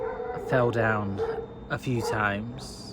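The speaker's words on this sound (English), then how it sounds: "Sorry about the dogs." Dogs bark and yelp in short bursts near a garden allotment, mixed in with and partly under a person talking close by.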